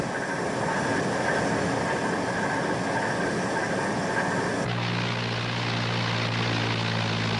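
An American aircraft flying over Hiroshima makes a loud, steady propeller-engine drone that holds throughout, its tone shifting abruptly partway into a lower, harmonic engine hum, with no voices.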